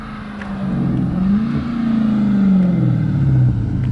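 A Dodge Hellcat drives nearby, its deep engine note rising and falling as it revs and pulls along, loud and continuous with a throaty rumble and no talk.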